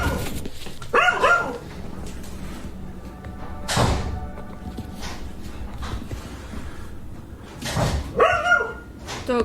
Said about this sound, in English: Dog goes bark, bark, bark.